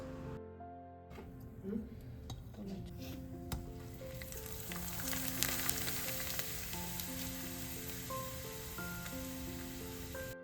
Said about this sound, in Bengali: আজকে ভাবলাম আরও কিছুটা ফুচকা আমি ভেজে নিই